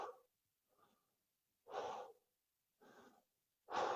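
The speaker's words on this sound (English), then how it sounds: "And breathe." Breaths drawn during a yoga and Pilates workout, a faint short inhale followed by three louder, airy breaths spaced about a second apart, close and with no talking.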